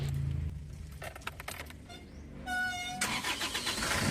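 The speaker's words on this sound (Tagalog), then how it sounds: "start ko na ulit itong makina" An Isuzu Traviz engine cranks with a brief starter whir, catches, and settles into a steady idle, preceded by a few clicks and rattles.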